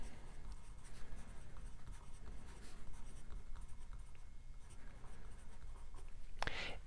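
Pen or marker writing by hand while a free body diagram is drawn for a static equilibrium physics lesson, a faint continuous scratching that runs steadily throughout with a brief brighter stroke near the end.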